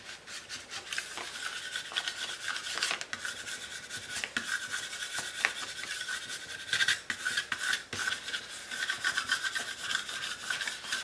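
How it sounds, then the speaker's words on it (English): A scraper rubs firmly across vinyl on a chalkboard sign, producing a continuous close scraping sound with repeated strokes and a few sharper scratches along the way. "I'll use that scraper to go all the way across"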